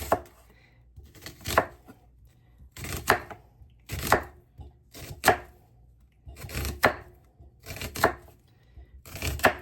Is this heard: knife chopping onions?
yes